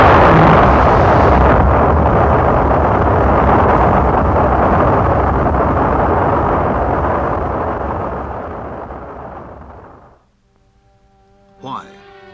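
An early rocket launch carrying an Earth satellite into orbit: a massive, sustained roaring rumble fills the air for about ten seconds, slowly fading, then cutting off into near silence before a brief tonal sweep.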